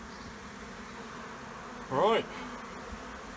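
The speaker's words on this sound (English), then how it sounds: "Those bees will, probably most of them are flying bees" Honey bees around a hive, most of them flying bees, hum as a steady low drone, with one louder buzzing insect passing close for a moment. A single word is spoken briefly.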